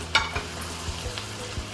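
Cooked eggplant stirred into a pot of onions and celery for Sicilian caponata, making a soft sizzle with a few quick scraping stirs, close and brief, with no voices.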